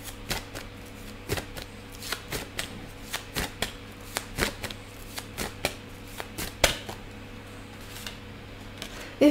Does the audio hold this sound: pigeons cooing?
no